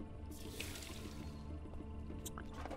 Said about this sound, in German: Und gieße die Pflanzen nochmal.